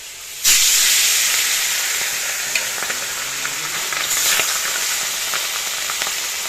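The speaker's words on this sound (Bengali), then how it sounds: "অল্প অল্প করে দিয়ে ভাজবো" Sea fish pieces dropped into hot oil burst into a loud, close sizzle that starts abruptly and keeps hissing steadily, with a few small clinks and a brief swell in the frying partway through, no speech.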